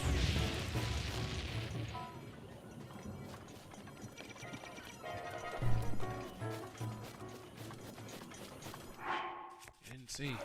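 Horse hooves clip-clop at a gallop in Zelda: Breath of the Wild, a steady rhythmic pounding under game music, with a crash or thud and a brief whinny near the end.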